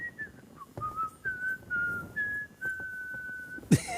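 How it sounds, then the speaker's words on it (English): Someone whistles outdoors in the medieval game Kingdom Come: Deliverance 2, a clear sustained tune of held and gliding notes lasting several seconds, ending in a sharp knock. "There's whistling out there."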